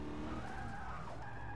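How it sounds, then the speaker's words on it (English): A 2013 Shelby GT500 coming out of a drift in Forza Motorsport 6, tires skidding and squealing over a steady engine drone, close and continuous for a brief moment. "Coming out of a drift in this game."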